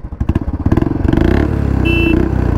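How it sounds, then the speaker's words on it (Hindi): A KTM RC 125 and a Royal Enfield Classic 350 launch in a drag race, a loud close engine roar that pulses rapidly and then rises into a steady revving drone. "पहले मैं हमारी क्लासिक 350 ड्राइव कर रहा हूँ और भाई हमारे ड्राइव कर रहे हैं हमारी RC 125"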